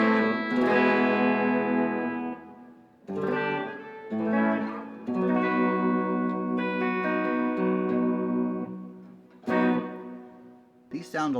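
Clean electric guitar on the bridge pickup through a Fender 65 Deluxe amp with no effects, a Firefly FFLPS or Yang Shan LP-style guitar, playing bright sustained chords and single notes up close, alone with pauses between phrases.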